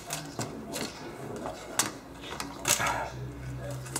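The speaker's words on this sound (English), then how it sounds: "Now I'm going to get extremely technical here and actually remove the keyboard." A laptop keyboard being pried out makes a run of sharp plastic clicks, snaps and clacks up close, with a couple of louder cracks partway through.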